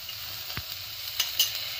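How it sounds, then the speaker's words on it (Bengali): Turmeric, cumin powder and ginger paste sizzle softly in a pan while a spatula gives a few brief scrapes and taps, close and fairly quiet. "এবার একটু নেড়ে নিই"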